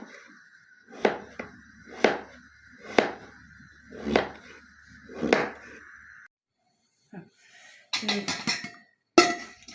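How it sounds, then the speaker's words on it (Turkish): Five evenly spaced knife chops through pumpkin striking a cutting board, each a firm thud, followed by a pause and some clattering kitchen handling. "Kabaklarımızı doğradık. Bal kabağı bu arada."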